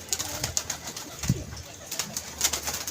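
Pigeons at a pigeon club coo in soft, repeated low calls, with scattered sharper chirps and fluttering amid a busy outdoor background.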